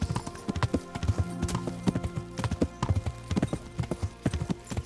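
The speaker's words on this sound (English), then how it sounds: "Gonna take my horse to the forest road." Horse hooves clip-clop at a steady walking rhythm on a forest road in the medieval video game Kingdom Come: Deliverance, close and clear over a soft ambient bed, with no talking.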